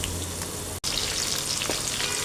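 Nuts, dates and raisins frying in hot oil give a continuous close sizzle and crackle, broken once by a very brief dropout.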